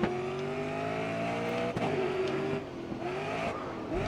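A race car in the video game Grid Autosport drones loudly with a rising engine note and a brief tire squeal midway, the pitch climbing and shifting as it accelerates.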